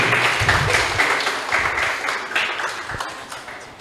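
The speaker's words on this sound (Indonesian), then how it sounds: "sekali lagi berikan tepuk tangan yang meriah" Audience at a school event for International Mother Language Day giving hearty applause, a continuous close rattle of many hands clapping that tapers slightly near the end.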